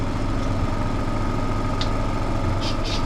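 A Lambretta RB250 scooter engine runs steadily at close range, a dense continuous buzzing drone with a few brief higher bursts over it and no clear pauses.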